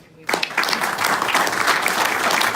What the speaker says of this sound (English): I'm going to ask for another round of applause because I think it's well deserved